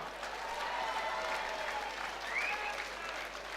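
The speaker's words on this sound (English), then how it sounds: "round of applause for both fighters" A crowd applauds steadily after a boxing bout, dense clapping with cheers and a whistle, heard from within a large venue.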